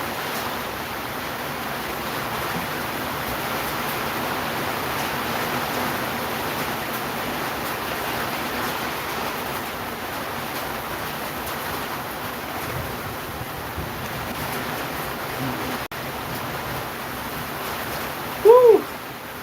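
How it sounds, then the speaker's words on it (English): Heavy rain pours outdoors as a steady, dense broadband hiss that stays loud and even throughout, with one brief squeak near the end. "The rain is hella loud"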